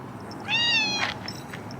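A single cat gives one clear, fairly quiet meow that rises and falls over about half a second in an outdoor yard. Faint background noise surrounds it, and there is no talk during the call.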